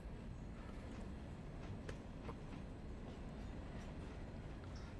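A train rolls along in the Railroader video game, giving a low, steady rumble with faint rhythmic clicks and light metallic ticks, continuous and fairly quiet, with no voice.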